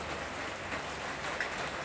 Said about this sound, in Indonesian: Kupang hujan-hujan.